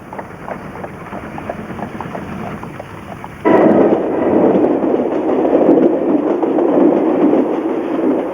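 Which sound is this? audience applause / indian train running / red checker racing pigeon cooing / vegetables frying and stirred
indian train running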